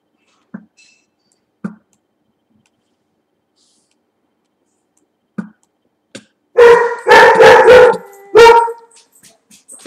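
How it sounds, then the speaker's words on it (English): A dog at home barks loudly in a quick burst of four or five sharp barks after a few faint isolated yips, close to the microphone during a Minecraft game session. "My dog is barking like crazy somehow."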